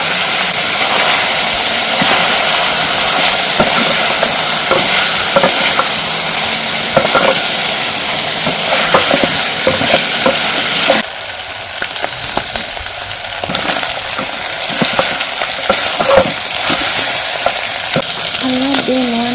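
Onions fry loudly in a pot with cooked beef and garam masala, a dense crackling sizzle with repeated scraping and stirring strokes that ease into a quieter hiss later on.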